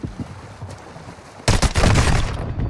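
Video game gunfire arrives as a sudden dense burst of loud rapid shots after a quieter stretch of muffled movement and faint ambience, continuing as a sustained volley to the end.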